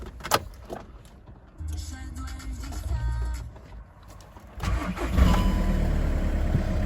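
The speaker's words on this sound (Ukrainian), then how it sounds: "Так, робимо старт на холодно." A 2010 Volkswagen Touran 1.9 TDI diesel engine cranks and catches on a cold start, then settles into a loud, steady idle after a few seconds of quieter starting noises.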